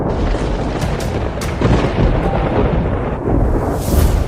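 Thunder from a lightning trial at a mountain sect's retreat rolls and rumbles continuously, a loud, dense booming with crackling surges and no voices.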